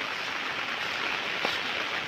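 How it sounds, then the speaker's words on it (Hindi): Heavy rain pours down steadily at close range in a dense, continuous wash of hiss, with water running nearby in a flooded drain and yard. "बारिश भी हो रहा है बहुत तेज"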